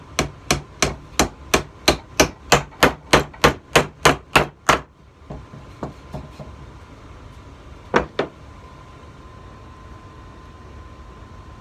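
A hammer drives a nail into a wooden wine rack board with about fifteen sharp, evenly spaced strikes, close and loud, followed by a few lighter taps and one final double knock.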